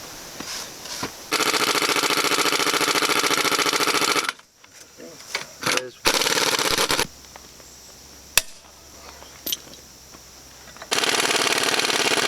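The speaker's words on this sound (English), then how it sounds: "we can put the little compressor on it" A small air compressor runs in loud, buzzing bursts while work goes on restoring a Series Land Rover. People talk in the quieter gaps between the runs.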